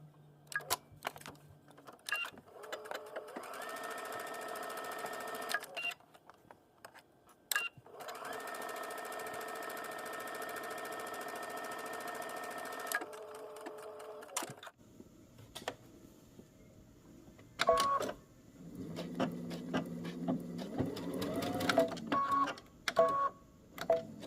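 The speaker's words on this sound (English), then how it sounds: "I'm going to take this to the machine and we're going to stitch it with a 5/8 seam allowance" A sewing machine stitches a 5/8 seam on a Sanai slip dress, running in several steady motor bursts of a few seconds each with short pauses and handling noises between them.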